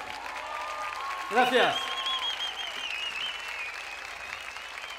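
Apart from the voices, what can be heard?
audience applause for someone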